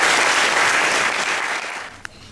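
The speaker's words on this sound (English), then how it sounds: "Let's give him a big clap" Children at a primary school assembly clap together for a classmate who has just spoken, a loud, dense burst that gradually thins and fades near the end.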